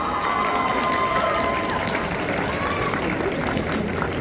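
Audience at the Angers Geekfest cosplay parade applauding a brother-and-sister pair of cosplayers, a steady wash of clapping and crowd noise with a voice talking through it.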